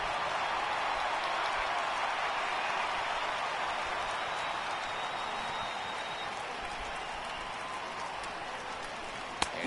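A stadium crowd in a Pittsburgh Pirates versus St. Louis Cardinals baseball video game roars and applauds in a dense, steady wash that holds for the whole stretch, loud and unbroken.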